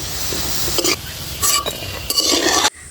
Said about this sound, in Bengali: ডালের বড়াগুলো কিন্তু বেশি ভাজার দরকার নেই,